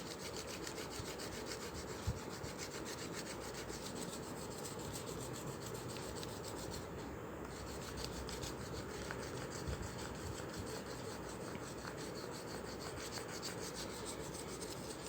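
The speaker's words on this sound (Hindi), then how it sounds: "ये जो लीफ है ना, इसके ऊपर पेपर रख के पेंसिल टिप से इसको मैं ऐसे रब करूँगी" Pencil tip rubbed steadily over paper laid on a leaf, giving a continuous soft dry scratching that holds at an even level throughout, close and alone with no talk.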